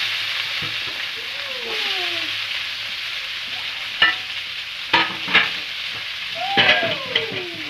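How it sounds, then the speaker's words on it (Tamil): Steady sizzle of chopped onions frying in oil fills the background, with occasional scraping and stirring clatter from a utensil in a pan; no one speaks. "பொடியாக நறுக்கி சேர்த்து நல்லா வதக்கலாம்"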